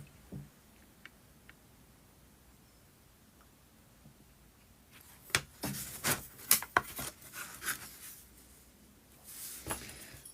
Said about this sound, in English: You can get through it with this scalpel, but it takes a long time.